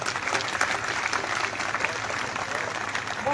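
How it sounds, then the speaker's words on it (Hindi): Audience applause at a degree convocation ceremony at a girls' college, a steady wash of clapping from a crowd that holds at an even level for the whole stretch with no voices standing out. "एक बार आप सबके लिए ताली हो जाए"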